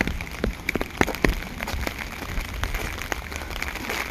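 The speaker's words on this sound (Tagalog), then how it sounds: "Okay lang pag ulan." Rain falls outdoors in the UK as a steady hiss of drops hitting surfaces, with scattered louder splats and taps close by and no voices.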